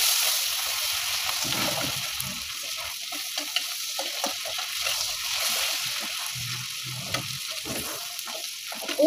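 Goat fat sizzles and spits steadily in a hot pan for mutton masala cooking, a close, continuous frying hiss with occasional stirring scrapes and small pops, no talking.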